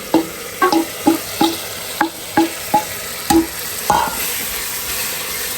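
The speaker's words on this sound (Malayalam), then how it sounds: "തക്കാളിയുടെ പച്ചമണൊക്കെ പോണ വരെ ഒന്ന് ഇളക്കി കൊടുക്കാം" Thick tomato masala for Malabar biryani is stirred in a hot pan, a spoon scraping in about ten regular strokes over a constant sizzle, close and fairly loud.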